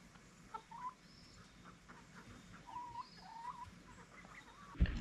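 Homestead chickens clucking near chicken tractors, a few soft, scattered clucks and calls over quiet outdoor background, with a sharp knock near the end.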